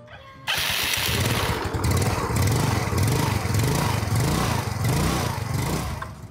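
A 2011 Yamaha Mio Smile scooter engine runs steadily nearby, a buzzing idle with a rhythmic pulsing rise and fall in pitch.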